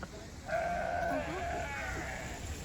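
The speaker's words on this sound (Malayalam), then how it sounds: "ഇതാണ് നമ്മുടെ ചെമ്മരി ആടുകൾ, മഞ്ഞിൽ മാത്രം കണ്ടുവരുന്ന ചെമ്മരി ആടുകളാണ് ഗൈസ്" Sheep bleat in snowy hill country near Manali: one drawn-out, wavering bleat close by, with a softer call after it, over steady outdoor background noise and some faint voices.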